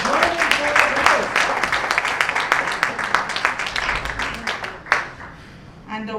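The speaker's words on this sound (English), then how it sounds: "A round of applause, let us join in for the winners." An audience at a Bollywood musical evening grand finale applauds the winners with dense, lively clapping that fades out, while voices are heard over it.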